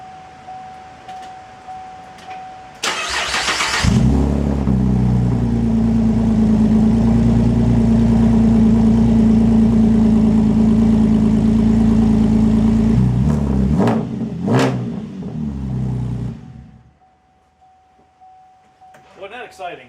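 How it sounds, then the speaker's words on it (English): A 2010 Camaro engine cold-starting with no exhaust fitted: a loud crank catches into a raw, rough idle that holds for about ten seconds, then a few sharp revs before shutting off. "let's do a cold start real quick with no exhaust"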